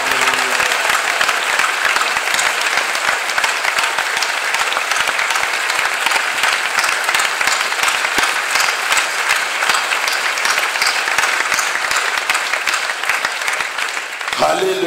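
A church congregation at a convention clapping their hands in praise, sustained rhythmic applause filling the room for over ten seconds, loud and continuous, with voices calling out beneath the clapping.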